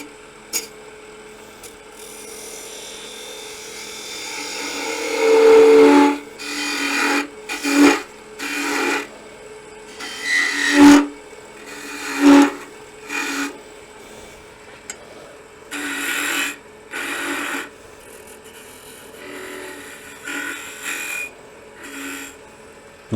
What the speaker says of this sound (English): I'm going to switch over to a 3/8 spindle gouge, and we'll come in and do a little bit of detail right here.